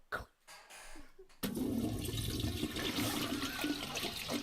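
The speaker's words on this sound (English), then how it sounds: "I'm just glad the toilet flushed" A toilet flushes after a couple of brief knocks and shuffles, the rush of water starting suddenly and roaring steadily at moderate loudness for about three seconds with no talking.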